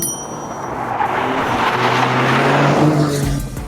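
A turbocharged 1.6-liter three-cylinder 2024 Toyota GR Corolla, 300 horsepower, powers through a corner at full throttle, its engine roaring loudly and swelling steadily while the tires squeal against the pavement.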